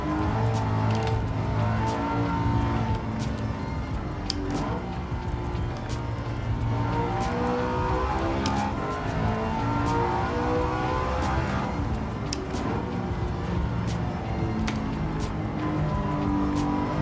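A McLaren race car engine drones steadily in Gran Turismo 7, a continuous loud motor hum with shifting pitch as it drives, with no pauses throughout.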